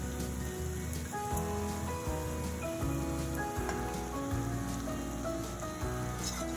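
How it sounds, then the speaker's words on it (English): Shrimp coated in salt and pepper seasoning stir-fry in a hot pan with a dense, constant sizzle and crackle, steady and close with no talking. "stir fry the shrimps for a good 2 minutes"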